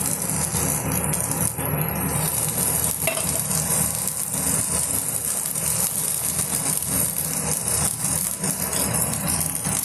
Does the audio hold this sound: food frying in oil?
yes